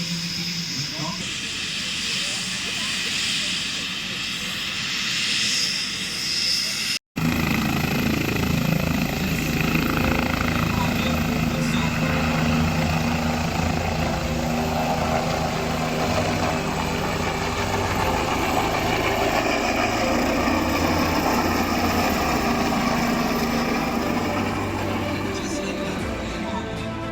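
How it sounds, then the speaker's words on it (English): A helicopter ambulance takes off near a hospital, its engine and rotors roaring loud and steady with a hissing whine, broken by one sharp cut early on, with voices faintly under the noise. "We are good to take off."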